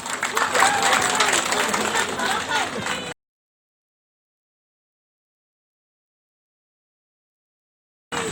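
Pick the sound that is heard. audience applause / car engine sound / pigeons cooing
audience applause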